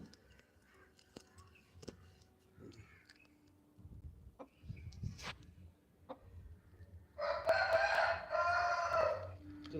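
A rooster crows loudly near the end, a long harsh call following quieter rustling and faint background noises.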